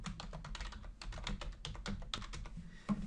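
Close, quiet typing on a computer keyboard while building a website: a steady run of rapid key taps with brief uneven pauses, heard alone without talk.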